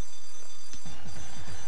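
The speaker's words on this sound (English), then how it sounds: "It sounds like a fire alarm." Fire alarm ringing in the Mega Man Star Force video game: a loud electronic ringing that starts partway through and repeats in a fast pulsing pattern over steady game background tones.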